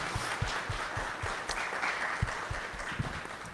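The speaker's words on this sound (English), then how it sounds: "Give her a big round of applause, please." Audience applause at a Latinx fashion runway event, a steady wash of clapping from a crowd with a few sharper individual claps standing out, moderately loud and continuous throughout.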